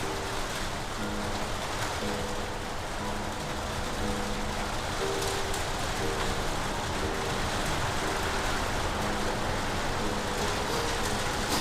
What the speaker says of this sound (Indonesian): Langsung hujan. Hujan tadi hujan tuh.